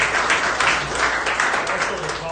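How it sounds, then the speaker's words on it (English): Applause from an audience at a clean energy event in Pennsylvania, a steady wash of clapping held at an even level for a couple of seconds. "Have a little round of applause"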